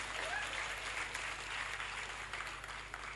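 Distant, fairly faint applause from an audience seated on the floor at a Women's Day program, an even rustling patter of many hands clapping with no voices over it.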